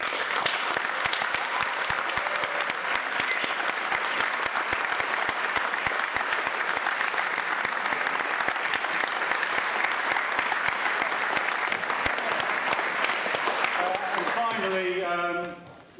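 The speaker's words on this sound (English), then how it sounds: "a very special round of applause for them" Sustained, dense applause from a large audience, steady and loud throughout, tapering off abruptly at the end.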